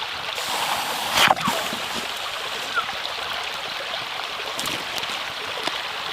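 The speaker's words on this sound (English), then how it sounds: "It's always very exciting when you first drop a stone in." A hot stone dropped into water makes a single sharp splash with a brief gurgle, set against steady flowing-water noise outdoors during primitive bushcraft water boiling.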